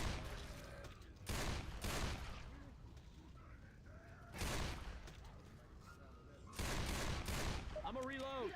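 Bursts of gunfire in the zombie game Left 4 Dead 2, three separate volleys of rapid shots spaced a few seconds apart, with players talking between them.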